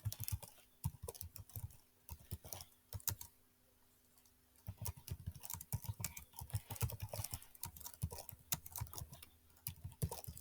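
A computer keyboard is typed on in fast, close clattering runs, with a short lull near the middle before the steady key tapping resumes, quiet and continuous.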